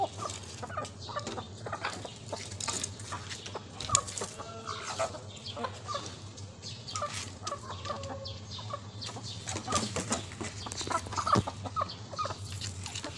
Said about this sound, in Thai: วันนี้ก็ซิมาให้อาหารไก่นะ